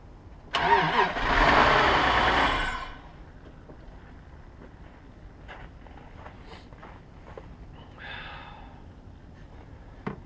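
A car engine cranks and fires with help from a Tacklife T6 jump starter that was left frozen overnight, a loud two-second roaring start close by that settles into a quiet idle with faint clicks and handling noises.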